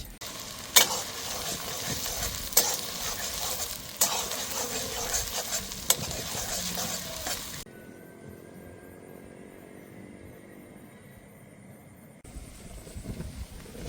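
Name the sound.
crushed onions frying with whole spices for chicken curry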